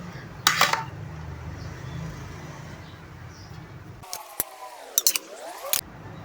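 A metal spoon clinks and scrapes against a biryani pot as rice is layered over spiced tomato masala for Sindhi biryani. A few sharp, sparse clinks come near the start and a cluster follows later, fairly quiet, with no talk.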